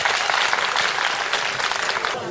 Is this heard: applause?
yes